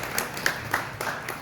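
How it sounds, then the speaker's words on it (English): Sparse clapping from a small audience at a chamber of commerce networking meeting, a handful of distinct claps over barely a second and a half, fairly faint. "have a round of applause for TLC."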